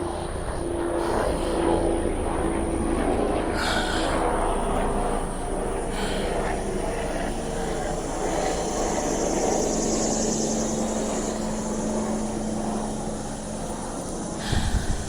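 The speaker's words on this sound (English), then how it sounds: "Sorry about the airplane, y'all." A propeller airplane passing overhead outdoors, a steady loud engine drone that fills the whole stretch and eases slightly near the end.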